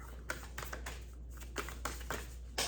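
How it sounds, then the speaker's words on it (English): Quick bursts of crisp, papery clicking come in several uneven flurries as tarot cards are riffled and shuffled close by, with quiet pauses between. "I'm gonna shuffle a little bit more."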